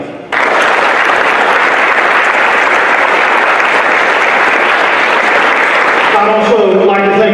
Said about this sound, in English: let's give a round of applause for our former Chair and current Trustee, Alan Graff